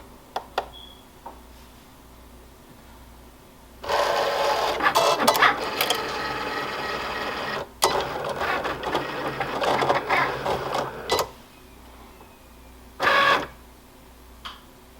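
Cricut cutting machine slicing heat transfer vinyl for a T-shirt, a close mechanical whir with rapid ratcheting carriage movements in bursts, pausing briefly, then a final short burst.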